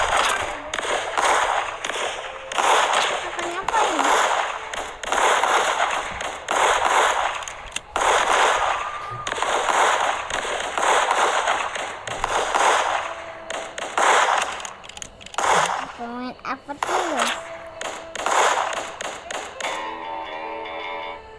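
Gunfire from a western-themed sniper video game, with loud, repeated sharp shots in quick bursts over a busy game soundtrack, and a voice speaks briefly near the end.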